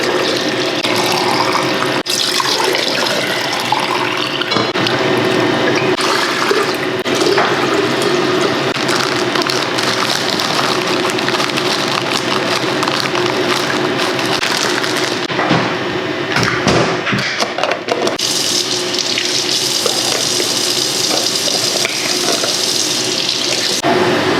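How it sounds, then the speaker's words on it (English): Kombucha poured from a container into jars on a kitchen countertop, a continuous splashing liquid stream with brief shifts and pauses, close and fairly loud. "Okay, I'll pour these into my jars here."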